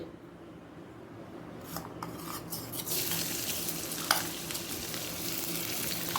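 Chopped garlic dropped into hot ghee for an egg bhujia bursts into a steady, close sizzle after a couple of seconds of quieter pan noise, with a brief stir or scrape partway through.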